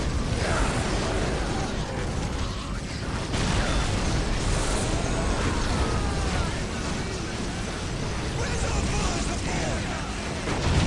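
Dense, continuous weapons fire and rumbling explosions from a large Dawn of War battle with Imperial Guard forces and a Baneblade tank fill the scene, with a voice talking over the chaos.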